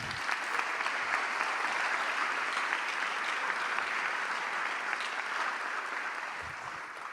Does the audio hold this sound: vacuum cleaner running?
no